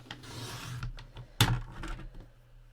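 A card edge is trimmed by about a millimetre with a paper trimmer, giving a short run of soft scraping and rubbing sounds. One sharp snap comes near the middle, close up.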